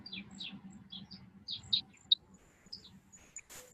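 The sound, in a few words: birds chirping outside open window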